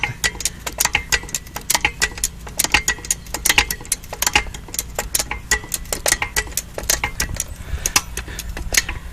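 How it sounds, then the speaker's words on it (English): A floor jack is cranked to lift a post out of the ground, giving rapid, fairly regular ratcheting clicks that run steadily and close by with no talk. "So I just crank this floor jack up as much as it'll go."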